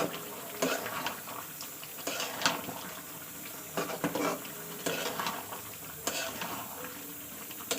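Meat being stir-fried for kosha in a pan, a low continuous sizzle broken by regular spatula scrapes and stirring clanks, fairly quiet and with no talking.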